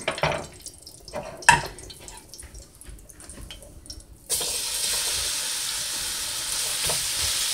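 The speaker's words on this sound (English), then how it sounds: "so I'm heating my skillet. And what I'm going to do is brown this meat." Beef stew meat browns in a hot skillet with a little vegetable oil, a loud steady sizzle that starts abruptly and holds after some clattering and stirring.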